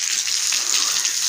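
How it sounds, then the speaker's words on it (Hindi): Water is poured across a dirty rooftop to clean it, a steady close splashing gush that runs unbroken throughout with no talk. "छत के ऊपर पानी डाल रहे हैं क्योंकि ये काफ़ी गंदी हुई है ना"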